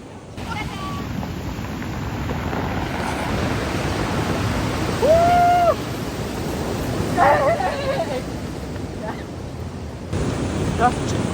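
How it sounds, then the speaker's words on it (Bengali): Black Sea waves breaking on the beach at Sochi, a continuous broad wash of surf mixed with wind buffeting the microphone, with brief voices and a short tonal call partway through. "ঢেউ আসতেছে"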